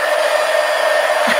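A hair dryer runs steadily and close, blowing on freshly painted art cards to dry the excess paint, its continuous whooshing hum unbroken and loud throughout.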